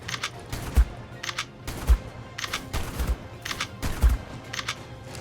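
Rhythmic gunfire in the video game ARK, aimed at a griffin, sounds as a regular series of sharp shots, roughly one per second, fairly close and fairly loud.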